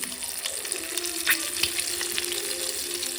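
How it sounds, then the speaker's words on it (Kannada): Turmeric and chili powder masala sizzling in a pan while cooking an egg curry, a steady close frying hiss with faint clinks, no talking. "ಈಗ ಇಲ್ಲಿ ಮಸಾಲ ಫ್ರೈ ಆಗ್ತಿದೆ"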